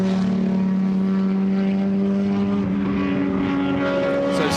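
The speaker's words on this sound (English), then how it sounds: "So it's starting to get different engine notes now, much harder engine notes, both Cosworth and from the M3." Group A era race cars with Cosworth and BMW M3 engines at Goodwood, a steady loud engine drone with strong sustained tones close by, one note rising near the end as a car passes.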